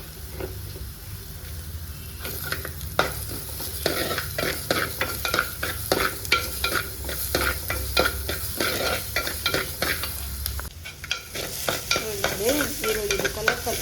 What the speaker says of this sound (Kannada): ಹೆಚ್ಚಿಟ್ಟಂತಹ ಈರುಳ್ಳಿಯನ್ನು ಹಾಕ್ತಾ ಇದ್ದೇನೆ ಇದನ್ನು ಕೂಡ ಚೆನ್ನಾಗಿ ಫ್ರೈ ಮಾಡಿಕೊಳ್ಳಿ